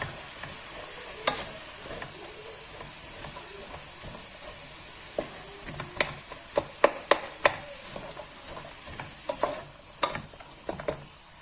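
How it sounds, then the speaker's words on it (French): Onions cooking in butter in a pot, a soft steady sizzle beneath scattered sharp clicks and taps of a utensil against the pot that grow busier toward the end, no talking. "on vient rajouter le beurre et on laisse mijoter un petit peu"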